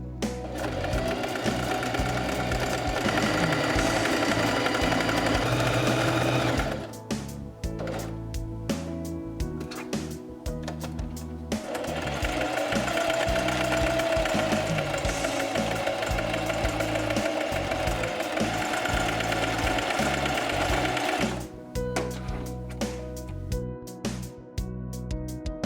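A sewing machine stitches through fur and appliqué fabric in two long, steady bursts of rapid mechanical whirring, close and loud, with brief pauses between runs.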